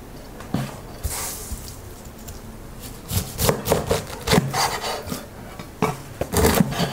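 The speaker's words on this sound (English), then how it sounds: "Slice off the crown and the bottom." A knife cutting through a pineapple to remove its crown and base, with rough fibrous crunching and scraping strokes in bursts, close and fairly loud against a quiet kitchen background.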